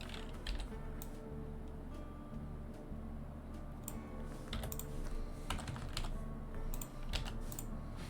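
Computer keyboard typed on during a digital dinosaur drawing session, a close run of quick irregular key clicks with a few sharper taps, no talking.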